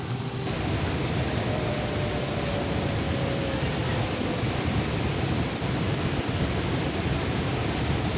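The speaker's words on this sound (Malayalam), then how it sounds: "നിറഞ്ഞൊഴുകി അതിരപ്പള്ളി വെള്ളച്ചാട്ടം." Athirappilly waterfall overflowing in heavy rain, a loud, dense, unbroken roar of rushing water that fills the whole scene without pause.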